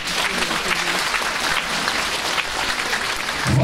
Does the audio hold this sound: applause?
yes